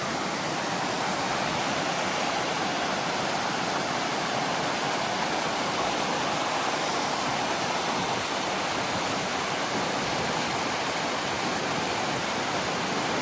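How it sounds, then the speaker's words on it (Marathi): Steady, loud rush of a waterfall in Wales, water pouring continuously over rock, a dense broadband roar that stays constant throughout with no voices. "सो हा तो वॉटरफॉल"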